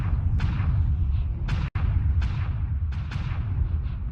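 Weapon fire in the mech combat game MechWarrior Online, a series of sharp, booming shots and bursts at uneven intervals over a constant low rumble of engines and battle noise.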